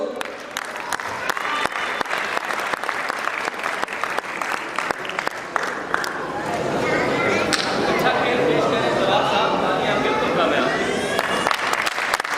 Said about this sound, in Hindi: जवान साहब के लिए तालियां बजाते रहिए